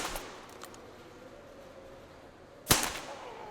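Gunfire in the shooter game Metro Exodus: one sharp, loud shot near the end over a quiet background, with fainter cracks earlier.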